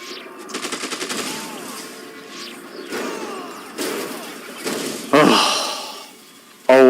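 Rapid bursts of automatic gunfire from a gun in a video game, a quick rattling volley near the start followed by scattered louder shots and sharp blasts, with faint voice-like sounds mixed in.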